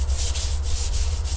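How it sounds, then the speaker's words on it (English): Sandpaper rubbing across a dry, coated truck rod tube in steady back-and-forth strokes, a close, continuous scratchy hiss pulsing about every third of a second over a low background hum. "We're gonna go ahead and put a first sand on."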